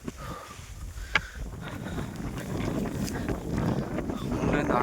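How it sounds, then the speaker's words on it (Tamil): Strong wind on the Velliangiri Hills, India, roars and buffets the microphone, a steady rushing noise that grows louder toward the end, with a brief knock early on. "கிட்டத்தட்ட 7வது மலை ஏற ஆரம்பிச்சதுலேருந்து காற்று பயங்கரமாக அடிக்குது."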